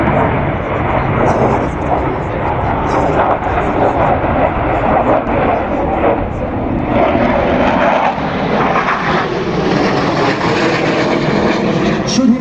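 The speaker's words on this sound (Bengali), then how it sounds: "শক্তিশালী দুটি RD-33 ইঞ্জিনের সর্বোচ্চ শক্তি ব্যবহার করে এবং বিমানের গতি নিয়ন্ত্রণ করে সর্বোচ্চ টার্ন পারফরমেন্স প্রদর্শন করছে MiG-29 বিমানের চৌকস পাইলট।" A MiG-29 fighter jet with two RD-33 engines roars through an afterburner turn, a loud, continuous broadband jet rumble sustained throughout, with a public-address announcer's voice speaking over it.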